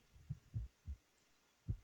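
A faint, muffled heartbeat effect in a military video game, low thumping beats in quick pairs, soft and isolated against a quiet hum.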